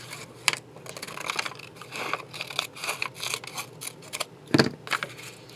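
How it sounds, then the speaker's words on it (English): Scissors snipping through paper along traced template lines for a junk journal envelope cover, a run of quick, close crisp cuts and crinkles with short pauses, quiet and without talk. "Go ahead and cut down those lines."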